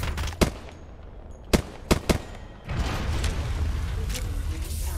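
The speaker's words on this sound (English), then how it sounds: "Opening fire." Video game gunfire sounds in scattered sharp bursts: a single shot, then a quick cluster of three loud shots, followed by a steady dense rumble of weapon noise and effects through the rest.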